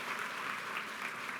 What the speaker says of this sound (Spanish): queremos aplaudirte. Este aplauso es para ti.